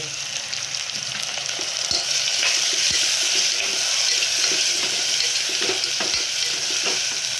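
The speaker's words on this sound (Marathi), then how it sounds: "आणि आता आपण टाकूया टमाटे." Tomatoes added to a pan of frying onion and chillies set off a steady, close sizzle with occasional stirring clicks, continuous throughout.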